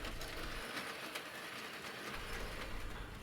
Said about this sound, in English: The Rails locomotive has no problem handling this load up the steep incline.